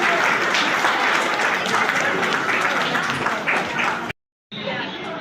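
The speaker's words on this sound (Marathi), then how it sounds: "सगळ्यांनी टाळ्या वाजवा" Guests at an engagement ceremony break into loud, dense applause that runs steadily for about four seconds, cuts out briefly, then returns.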